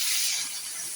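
Three bay leaves dropped into hot oil for a thin mutton curry: a sudden loud, hissing sizzle that fills the moment and stays steady, close up, with no talking.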